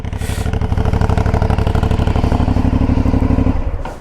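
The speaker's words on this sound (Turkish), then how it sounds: "Ses falan muhteşem. Bak böyle yandan geliyor egzozlar" An Aprilia Shiver 900 motorcycle exhaust, exiting at the side, burbles close by in a loud, rapid pulsing rhythm, then cuts off near the end.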